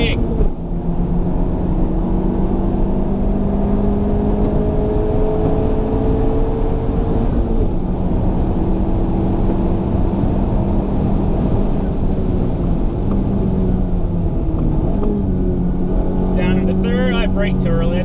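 A Honda Civic Type R's engine pulls hard on a race track, its steady in-cabin drone rising and falling through the gears, with harmonic tones sweeping up as it accelerates out of corners; someone talks throughout.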